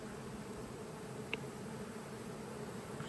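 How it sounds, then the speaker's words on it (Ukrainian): A steady, faint buzzing hum of many bees flying around their hives, a continuous drone with no voices. "літають бджоли, я не кушу"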